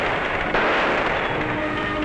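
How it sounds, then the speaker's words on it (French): Dense gunfire crackles in an old film about an elephants' graveyard, coming as a continuous loud roar of overlapping shots and bursts that fill the whole stretch without any break or talk. "Pourquoi tous ces coups de feu?"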